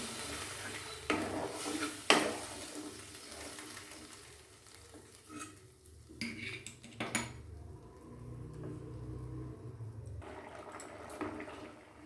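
Fish pieces simmer and fry in a pan of spiced curry at a home stove, a continuous soft sizzling bubble with a few louder clinks and scrapes of a utensil against the pan, and no talking.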